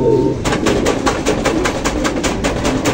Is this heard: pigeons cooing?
yes